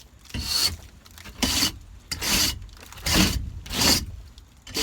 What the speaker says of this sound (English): So I come through with the wire brush